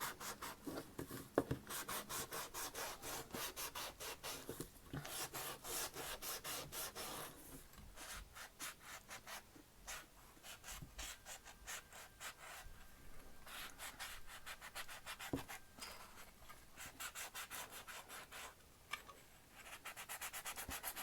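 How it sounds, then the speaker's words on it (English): Steady rough sanding of a wooden button, a continuous scratchy rubbing close up with slight rhythmic variation, quiet overall and no speech. "the reason why we're sanding this down"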